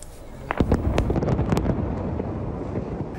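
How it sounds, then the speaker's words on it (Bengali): A rapid series of sharp blasts and booms in the Jenin refugee camp, West Bank, close and loud, crackling over a constant rumble. "একের পর এক বিস্ফোরণে প্রকম্পিত জেনিন"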